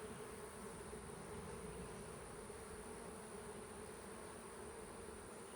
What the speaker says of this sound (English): Bees are very fast.